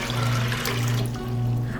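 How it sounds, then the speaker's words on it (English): Water is poured steadily over dried chickpeas set to soak, a continuous close rushing flow with a low hum underneath and no talk. "we're going to be adding enough water to cover, and we're going to allow it to soak overnight"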